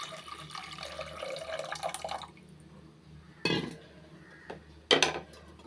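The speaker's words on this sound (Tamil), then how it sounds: "ஒரு கப்பளவு வந்து புளித்தண்ணி சேர்த்துக்கிறேன்" Tamarind water is poured from a cup into a pot of coconut milk in a home kitchen: a soft, steady pour for about two seconds, then brief splashes and clinks of utensils against the pot.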